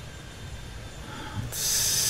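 Aircraft engine noise on a runway in Airport Madness 3D at Toronto: a low rumbling drone swells, then a loud, broad hissing roar takes over, like a jet spooling up nearby.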